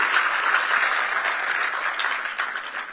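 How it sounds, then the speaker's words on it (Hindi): An audience claps at a Himalaya Day public event in Dehradun attended by the state chief minister, a steady, even patter of applause lasting the whole clip with no talk over it. "तो एक बार ताली तो बजाइए आप लोगों को चैतन्य करने के लिए"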